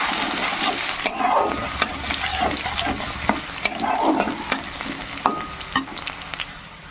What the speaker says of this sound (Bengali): তেলে দিয়ে দেবো থেতো করে রাখা রসুন একটু ভেজে নেবো রসুনটাকে